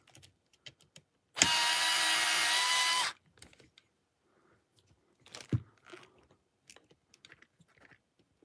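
A power driver cranks up torque while fitting a 3D printed cantilever kit to a TRX4 crawler, one loud buzzing whir lasting under two seconds, followed by quiet clicks and handling knocks.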